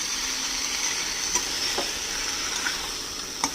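Green peas being stirred in a hot pan, a steady bright sizzle running throughout with a few soft scraping clicks of the spoon, close and alone without voices.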